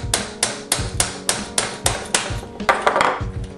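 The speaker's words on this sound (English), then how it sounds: "I like to take a small tack hammer" A small tack hammer taps steadily on a tight pin in a Snow Wolf M99 airsoft rifle, about a dozen sharp, close metallic strikes in an even rhythm, the last few quicker and softer.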